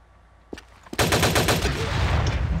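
Rapid automatic gunfire in a first-person shooter video game, a sharp burst of loud, dense shots starting abruptly and continuing without pause.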